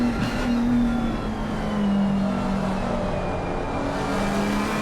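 Race cars in Assetto Corsa Competizione at Silverstone, a McLaren, BMW and Ferrari battling closely, their engines blending into a steady loud drone with a rising whine throughout.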